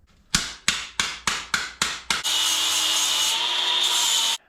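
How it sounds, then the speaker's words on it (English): Seven sharp, ringing hammer blows on a metal plate during rust repair on a 1978 K5 Blazer, evenly spaced and close, followed by a loud, steady grinding or sanding whir that runs to the end. "I better hammer this flat."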